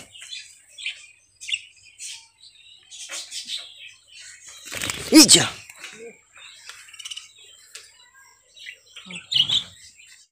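Caged male and female budgies chirp and tweet in scattered bursts, with one louder squawk near the middle. A voice speaks briefly among the calls.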